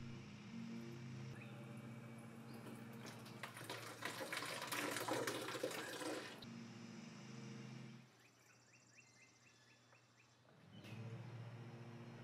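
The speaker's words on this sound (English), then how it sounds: "So I'm going to open up the valve to bleed out the air." Air hissing and bubbling out through an open bleed valve on the coolant hose of a BMW R1200GS motorcycle, a steady close mechanical rush that swells for several seconds, then stops, leaving a faint hum.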